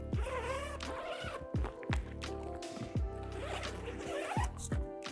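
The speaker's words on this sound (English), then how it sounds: "Unzip the frost cover." A zipper on a frost cover for a Lifetime raised garden bed is pulled open in several quick strokes, each a close, loud rasping zip with short pauses between.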